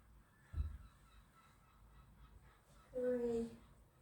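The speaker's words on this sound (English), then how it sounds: "can hear the birds" Faint outdoor birds call, including a short honking, goose-like cry, against a quiet room background, with a soft thump before it.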